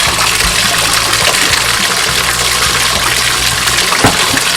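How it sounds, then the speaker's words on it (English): Water runs from a tap into a bathtub in a steady, loud, close gush with a constant hiss and low rumble, no voices. "I'm just going to run some water in the bathtub."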